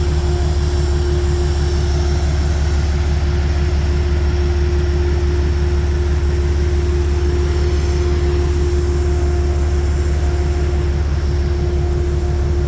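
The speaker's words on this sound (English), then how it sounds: "There's always an engine running over here at the shop." A train engine idles at a rail shop near a station platform, a steady loud drone with a constant low hum and an even mechanical rumble that holds unchanged throughout, with no voices.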